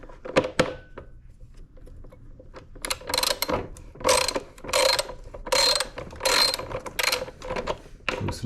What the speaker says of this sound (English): So we'll grab our 10mm socket.